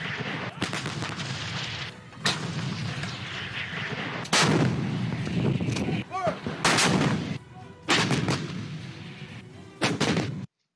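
Heavy artillery booms repeatedly, loud deep blasts with rumbling tails, fired in irregular succession.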